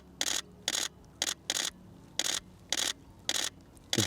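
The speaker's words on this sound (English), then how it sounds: "Listen to that shutter. It's a beast." A Canon 1DX DSLR fires its shutter in eight separate bursts, each a loud, crisp mechanical clatter of rapid frames, spaced evenly with short quiet gaps between them and no talk over them.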